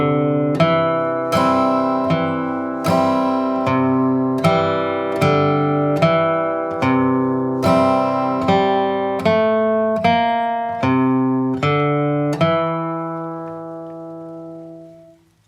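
Guitar picks out the melody line of a song as a steady run of about a dozen single plucked notes. Each note rings and decays, with the last one sustaining and fading out. The playing is close, clear and heard alone.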